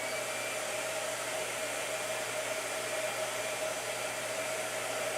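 A blow dryer runs steadily on a gouache painting, a constant close whooshing hum with no break or change in pitch.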